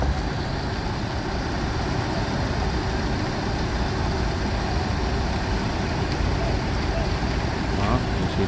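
Intra bus at a busy Indonesian bus station during the Lebaran homecoming rush, with a steady low engine rumble and road noise filling the whole stretch without pause.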